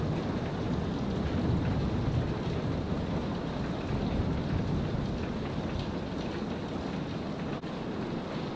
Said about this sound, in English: I really thought that this thunderstorm was going to pass us